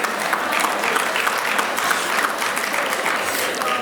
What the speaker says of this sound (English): I want you to attend to the applause that happened